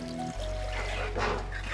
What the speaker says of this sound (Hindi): जब दही का घी अलग हो गया तो डाल दिया पानी।